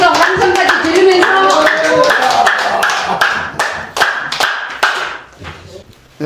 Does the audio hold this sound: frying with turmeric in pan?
no